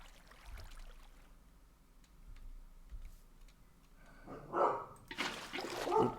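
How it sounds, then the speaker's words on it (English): Several dogs barking at home, breaking out in loud, close bursts near the end after a quieter stretch of faint background ticking. "Had to just stop them from barking."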